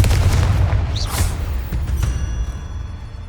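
A Confringo blasting spell goes off in Hogwarts Legacy as a loud, booming explosion with a deep rumbling low end and a whooshing burst, alone and close, decaying over a few seconds.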